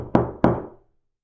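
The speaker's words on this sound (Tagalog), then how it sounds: "Biglang may kumatok sa bahay ni Aling Ima." Two firm knocks on a wooden door, close and evenly spaced, each ringing out briefly before silence.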